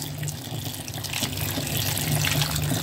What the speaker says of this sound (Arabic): هتيجي بقى اضيف الميه